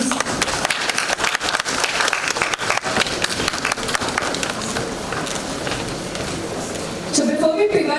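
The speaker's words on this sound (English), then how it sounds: "A round of applause, please" Audience at a Kubernetes community conference clapping for two presenters, dense continuous applause that thins slightly toward the end as a voice begins.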